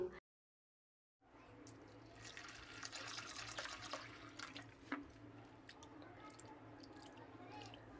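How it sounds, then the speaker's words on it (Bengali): Large sago pearls being rinsed in water by hand make soft splashing, swishing and dripping sounds close by, fairly quiet, after a moment of silence at the start. "এখন এই সাবুটাকে জল দিয়ে ভালো করে ধুয়ে নেবো"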